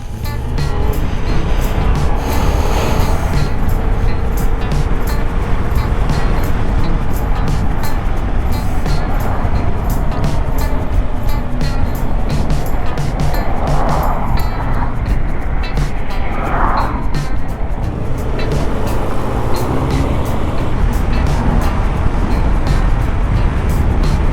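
A Yamaha MT-07 motorcycle rides along a road, its engine a steady, continuous drone with wind rush and a few rising passes, and someone talks over it at times.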